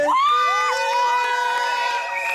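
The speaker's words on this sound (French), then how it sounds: "Applaudissez." Cheering crowd at a customary wedding ceremony, with high, sustained ululating voices rising over a steady, loud mass of cheers throughout.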